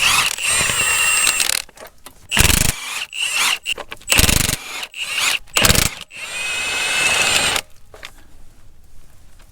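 A socket ratchet works off bearing cap bolts on a Caterpillar RD-6 crawler track frame, giving loud, close bursts of rapid clicking broken by short pauses and metallic knocks.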